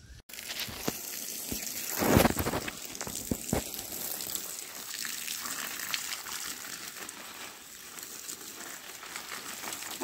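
Water is poured onto garden plants, a soft quiet splashing and trickling with a brief louder gush early on and faint rustling of leaves, no speech.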